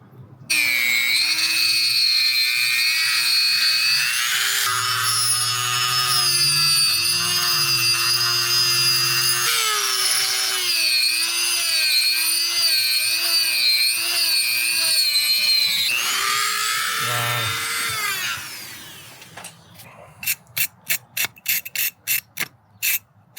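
Angle grinder carving a palm tree sculpture: a loud, sustained, high mechanical whine that shifts in pitch as it bites and eases. It winds down near the end into a rapid series of clicks.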